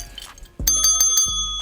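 A bright bicycle-style bell dings twice, a faint tap first and then a loud, ringing strike that trails off, alone with no talking.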